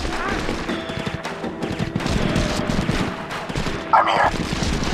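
Combat gunfire in SOCOM 4 U.S. Navy SEALs on PS3: rapid, dense bursts of shots crackle continuously, with a louder burst near the end, all fairly close and sustained throughout.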